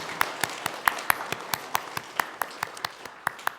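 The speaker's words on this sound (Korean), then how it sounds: "우리에게 복 주신 하나님께 영광의 박수 올려드립니다." Rhythmic, sharp claps at a New Year's Eve church service, a steady beat of about four claps per second, fairly close and crisp, with no speech over them.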